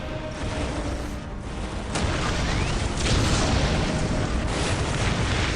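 Heavy, rumbling barrage of Ork artillery fire in Warhammer 40k: Dawn of War, dense continuous booms and blasts swelling louder over several seconds, with no voices over the din.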